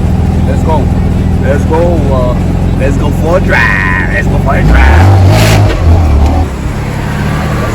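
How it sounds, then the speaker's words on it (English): A 2020 BMW M4 Competition pulls away with a rising engine rev and a throaty surge, loud and close, while a person talks over it. "So now we're about to go for a drive, if you want to ride with me."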